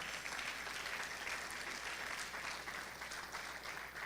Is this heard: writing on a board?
no